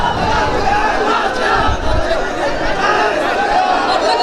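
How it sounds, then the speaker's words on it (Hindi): A packed cinema crowd at a Gadar 2 screening roars and chants patriotic slogans, a loud, continuous mass of voices with shouts rising over the din. "जय श्री राम, भारत माता की जय, वंदे मातरम का नारा यहाँ लग रहा है"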